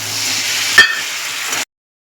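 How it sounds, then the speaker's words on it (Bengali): A little water added to a pan of papaya frying with lentil dumplings (bori) throws up a loud, close sizzle with a sharp burst near the middle, then a steady hiss that ends abruptly. "এই সামান্য পরিমাণে একটু জল দিয়ে দেবো।"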